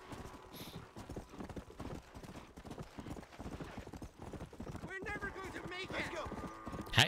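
Horse hooves clip-clop in a steady, even rhythm while riding in the video game Red Dead Redemption: Undead Nightmare, running continuously under someone talking in German over game sounds.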